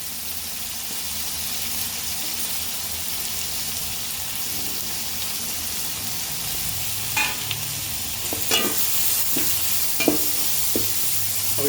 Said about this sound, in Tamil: அப்படி வதக்கிட்டே இருக்கணும்.